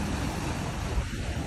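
Ocean surf rolling onto Newport Beach, a steady broadband wash of breaking waves with constant low rumble and some wind buffeting the microphone, continuous and close.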